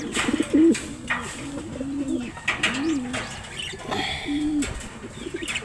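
Pigeons coo in repeated low, throaty phrases at close range while feeding their young, with occasional wing flutters and brief rustling between calls.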